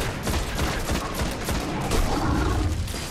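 Sustained gunfire from the Destiny shooter rattles in a loud, continuous barrage of rapid shots, dense and unbroken for a few seconds with no voices over it.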